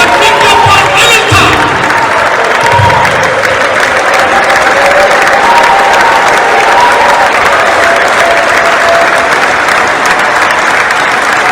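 Church crowd applauding and ululating during a gospel gathering, a loud continuous wash of clapping with high trilling voices rising over it early on.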